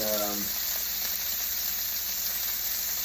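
A steak fries over medium heat in a frying pan, giving a steady, close, continuous sizzle. A brief low tone fades out at the very start.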